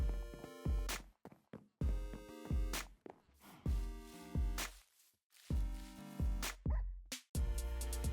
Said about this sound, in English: There's a couple more dogs up here.